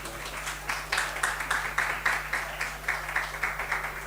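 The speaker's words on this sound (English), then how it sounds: "Can we please clap our hands?" Audience in a meeting room claps together for several seconds, a steady patter of many hands with rhythmic pulses, close and moderately loud, over a faint low hum.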